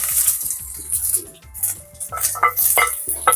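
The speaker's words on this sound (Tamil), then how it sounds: "வெங்காயம் சேர்த்துக்கிறேன்." Onions go into a hot pan, setting off bursts of hissing sizzle with clattering and stirring noises that rise and fall throughout.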